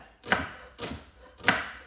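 A knife chops through leeks on a cutting board in three sharp, evenly spaced strokes, close and clear with short decays and no talking.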